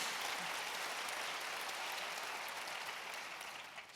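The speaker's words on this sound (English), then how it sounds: "We might just give them a quick round of applause." Audience applause for a panel of women trailblazers at an International Women's Day event, a dense, even wash of clapping from a large crowd, loud at first and tapering slightly toward the end.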